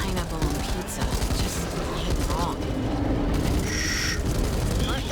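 Gunfire in the zombie shooter video game Back 4 Blood: a dense, steady barrage of shots and booms that runs the whole time, with a voice talking over it.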